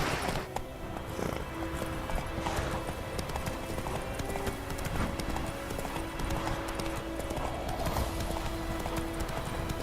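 Roach, the horse in The Witcher 3, gallops with a quick, steady clatter of hooves. The hoofbeats run over a dense, continuous game soundscape that holds a faint sustained tone.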